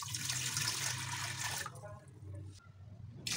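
Water pours into a pressure cooker with a close, hissing splash that breaks off midway, starts again briefly, then gives way to quieter gaps.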